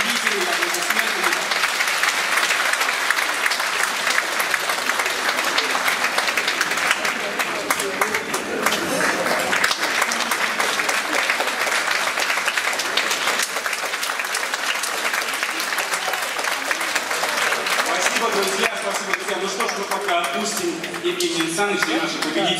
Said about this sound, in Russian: Давайте поздравим вместе наших победителей, аплодисменты.